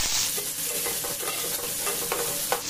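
Carrot pieces, green chilies and beans fry in hot oil for vegetable upma, a steady close sizzle broken by repeated scraping stirs with no talking.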